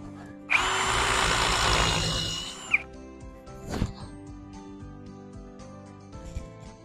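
A power drill bores a measured hole for a Würth self-tapping thread insert in one loud, close burst of about two seconds, then stops, followed by faint clicks and handling sounds.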